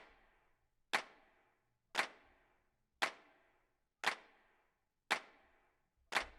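Six evenly spaced, sharp hand clap hits, each a layered stack of four clap samples in a jazz house beat, dry and punchy with a quick decay and silence between them.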